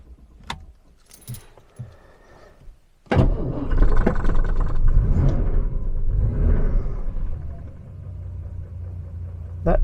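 1966 Jaguar S-Type, troubleshooting a cold start: keys jangle and click in the ignition, then the engine catches almost at once and settles into a loud, steady, very low idle rumble.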